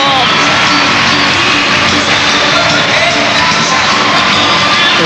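A dense, loud arena crowd at a men's gymnastics vault final cheers and yells, with constant roaring and whooping and no breaks throughout.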